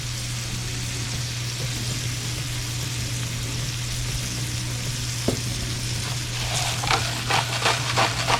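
A ribeye steak seasoned with salt and pepper sears in a hot pan, a continuous close sizzle with a low hum underneath, a few crackling pops and spatters toward the end, no talk.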